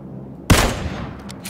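A single sharp gunshot cracks from a weapon in PUBG Battlegrounds, loud and close, followed by a short decaying echo.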